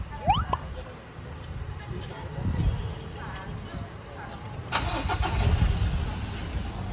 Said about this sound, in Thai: เราจะมาฟังเสียงเครื่องยนต์กัน